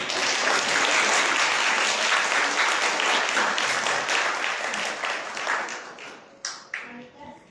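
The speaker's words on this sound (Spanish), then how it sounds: "Démosle un fuerte aplauso" Audience clapping at a church talk on the mission of catechists, a full steady round that thins out near the end into scattered last claps.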